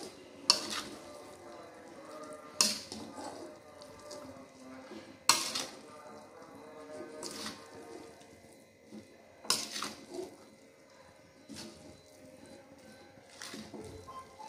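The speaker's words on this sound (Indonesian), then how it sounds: "Kita aduk dulu rata ya" Rice vermicelli (mihun) being stirred in a pan, with sharp utensil scrapes and clinks against the metal at irregular intervals over a quiet background, moderately close.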